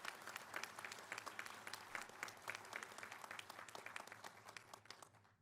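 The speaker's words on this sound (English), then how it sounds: "So please give a round of applause to the staff of the convention center who have made this so easy." A crowd at a conference breakfast and business meeting applauds the convention center staff, with steady, dense clapping from many hands in a large room, quite faint and distant, tapering off toward the end.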